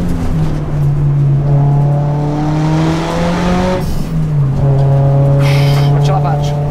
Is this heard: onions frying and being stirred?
no